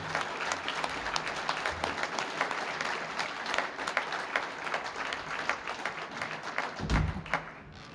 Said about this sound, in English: let's give a nice round of applause for Amy Wallace-Yingling